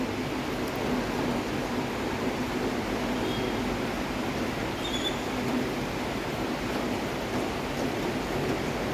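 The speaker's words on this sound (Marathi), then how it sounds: "फुल पाऊस लागला आता." Heavy monsoon rain falls steadily as an even, soft wash of noise with no breaks, fairly faint and without voices.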